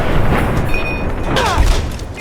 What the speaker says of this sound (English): Outside was a group of raiders, and I opened fire as soon as I saw them.